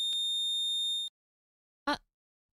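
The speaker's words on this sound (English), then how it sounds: "I heard the electronic beeps from the collar" A steady electronic tone from a collar in the video game Collar X Malice holds for about a second and cuts off, then a short sharp burst follows after a pause.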